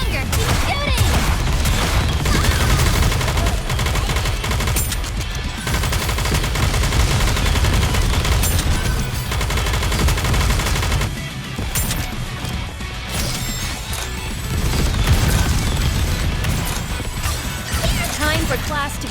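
Sustained bursts of automatic gunfire and impact crashes from the anime shooter Goddess of Victory NIKKE, loud and near-constant over game music, with a dip midway and voices talking over it.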